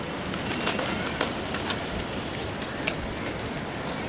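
Pigeons around a rooftop loft, likely high-flyer birds, give faint soft coos and a few brief flutters against a steady outdoor background hiss.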